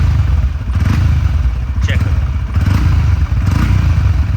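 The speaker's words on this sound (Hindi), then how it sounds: "तो ये थ्रॉटल देने पे है आवाज़, नो डाउट बेसी साउंड है।" A Honda CB125 Hornet motorcycle engine runs with a steady low drone, then revs as the throttle is opened, loud and close, while someone talks over it.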